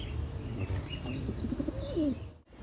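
Rampuri golden pigeons coo in a low, soft run of rolling calls, close by, with a brief wing flutter and faint chirps in the background.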